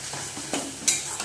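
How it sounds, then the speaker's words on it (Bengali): Spice paste (masala) sautéed and stirred in a hot pan for an orange brinjal (eggplant) curry: a steady close sizzle with a few sharper scraping strokes of the spoon, heard alone. "ভালো করে ভালো করে এটা দিয়ে কষে নেব।"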